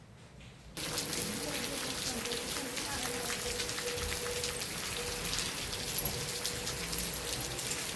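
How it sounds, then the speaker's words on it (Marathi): Steady rain falls outside in Pune, a dense even hiss of drops striking surfaces that starts suddenly and carries on, close and continuous. "बघा कसा पाऊस पडायला लागलाय"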